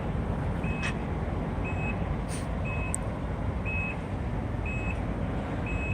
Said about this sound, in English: It's got the power trunk.